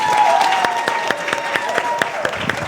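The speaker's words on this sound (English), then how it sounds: "So let's give a big round of applause to our panelists." A seated audience gives steady, full applause for the panelists at a Women in Print 2025 panel discussion. The dense clapping fills the whole stretch, with individual louder claps poking through and some voices faintly mixed in.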